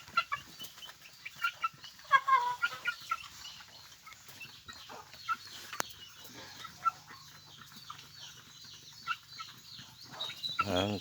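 Three-month-old chickens cluck softly in scattered bursts while eating moistened feed, a quiet farmyard scene with faint background noise.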